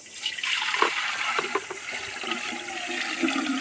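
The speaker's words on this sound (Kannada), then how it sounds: "ಈಗ ತೊಳೆದಿರೋ ಮಡಕೆಯಲ್ಲಿ ಫುಲ್ ನೀರು ಹಾಕಬೇಕು" Water pours and splashes steadily into a new, leaking clay pot, a continuous gushing trickle with small bubbling spikes, close by and without speech.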